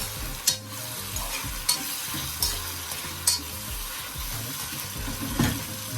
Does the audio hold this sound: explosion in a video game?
no